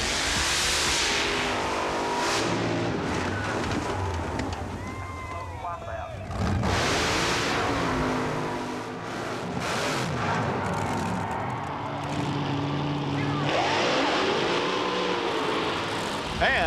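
Shake Me, the 1989 NMRO Car of the Year mud racing car, revs its engine in loud, rising and falling surges, and a voice talks over parts of it.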